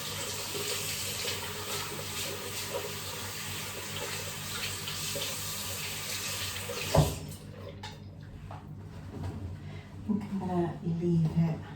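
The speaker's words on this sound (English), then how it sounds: "Rinse that off." Tap water runs steadily from a faucet into a sink while a face scrub is rinsed off, then cuts off, leaving brief splashes and handling noises.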